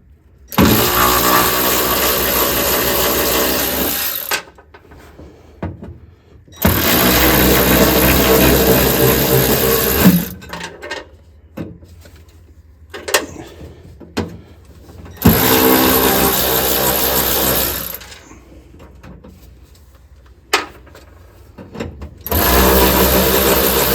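Power tool driving out 7/16 bolts on the brake master cylinder cover plate of an M38A1 Jeep, loud whirring bursts of several seconds each separated by quiet pauses with small clinks, repeated four times.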